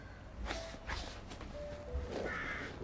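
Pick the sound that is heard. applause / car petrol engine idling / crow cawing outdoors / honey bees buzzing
crow cawing outdoors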